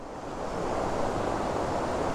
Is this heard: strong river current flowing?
yes